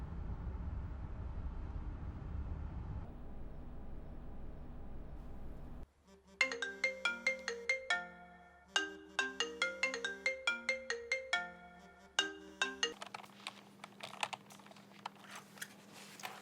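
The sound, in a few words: phone ringtone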